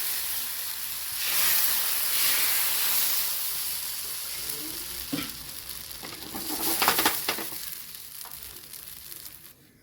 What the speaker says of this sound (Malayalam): അതിനുശേഷം നമ്മൾ നേരത്തെ കലക്കി വെച്ച മാവ് ഒഴിച്ച് കൊടുക്കുക